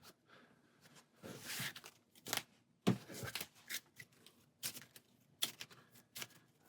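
Brisk bursts of playing cards from the Marvel Legendary card game being riffled and shuffled, several quick rounds separated by short pauses, close and fairly quiet.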